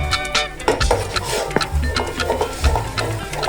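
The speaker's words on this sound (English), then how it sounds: "I'll stir it to avoid any lump" Achi being stirred into hot oil in a pot on the fire for Ofe Owerri soup, giving a thick scraping and bubbling sizzle with rhythmic spoon knocks, close and fairly loud.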